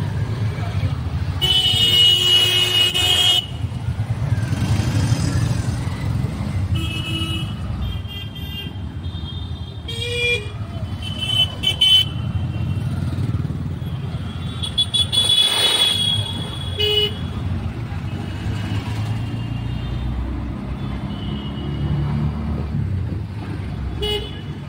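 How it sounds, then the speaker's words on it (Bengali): Ride in an auto rickshaw through road traffic on the way to a train station, with a constant engine and road rumble, several car horn toots near and far, and people talking over the noise. "রেডি হয়ে অটোতে বসে পড়েছি।"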